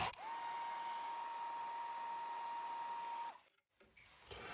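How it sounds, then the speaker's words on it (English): A continuous high-pitched electric whine with a steady airy blow from a hairdryer drying a watercolor painting runs for about three seconds, then cuts off abruptly, leaving faint rustling. "I'm going to hit it with a hairdryer right now."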